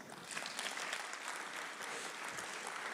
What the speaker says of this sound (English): the Nandini, so big clap for her